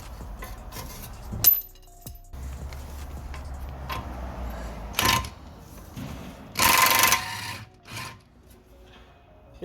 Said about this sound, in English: Push it down with one hand, take it off with the gun.